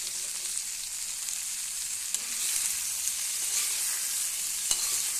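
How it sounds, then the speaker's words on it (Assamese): Spices frying in hot oil in a pan for an Assamese banana flower dish give a steady, close, bright sizzling hiss that holds evenly throughout, with a few faint stirring clicks and no voices. "এয়া ফ্ৰাই হৈ গৈছে।"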